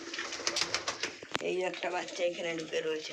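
Pigeons coo in a loft of nesting boxes housing adults and young birds, the soft repeated calls sitting beneath someone talking nearby throughout, with a sharp knock partway through.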